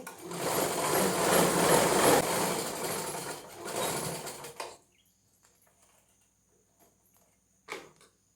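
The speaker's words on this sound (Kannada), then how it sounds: "ಮತ್ತೊಂದು ಸ್ಟಿಚ್ ಹಾಕೋಣ" A sewing machine stitches a cloth carry bag in a steady, close whirring run for about five seconds, then stops, leaving near silence and one short burst at the end.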